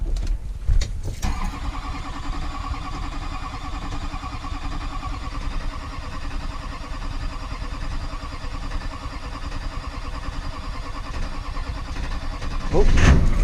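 A wrecked rollover vehicle's engine cranks and catches, settling into a steady close running rumble that continues throughout, with a louder burst near the end.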